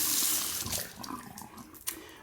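Water streams steadily from a touchless kitchen faucet into a sink with a soft, hissing splash. There is a small spatter near the end, and no voices are heard.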